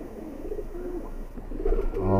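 An older high flyer pigeon coos in a low, soft, repeated burble, fairly close and gathering strength toward the end over faint background noise.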